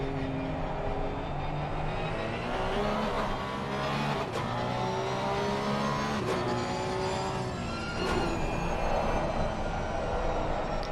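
Porsche 992 Cup race car at Zandvoort, engine howling loud and steady on throttle, its pitch rising and falling across several gear changes with no break in the noise.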